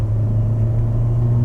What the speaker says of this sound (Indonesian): Sama DRPM 4000 itu suara mesinnya masih agak masuk,